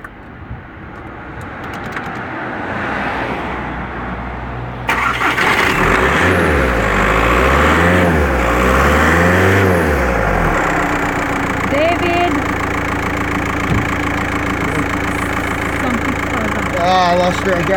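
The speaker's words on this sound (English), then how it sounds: "I will crank the engine, keep video on there, Anne-Marie, so you can see." A car engine fitted with a hydrogen kit cranks in a rhythmic whirring burst, catches and starts, then settles into a steady idle that continues to the end.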